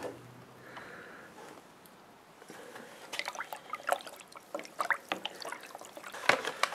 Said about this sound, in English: then you just begin to stir